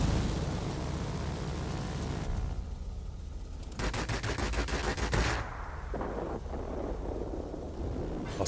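P-38L Lightning heavy fighter firing its machine guns in a flight combat video game, long rapid bursts of gunfire over a constant roar of engine and wind, loud and sustained with brief pauses between volleys.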